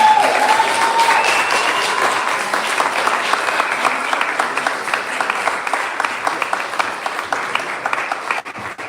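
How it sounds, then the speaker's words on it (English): Loud, sustained audience applause rings through Trinity Church, Wall Street for the Jazz House Kids, thick even clapping that holds steady throughout before dropping off abruptly at the very end. "I want you to applaud them"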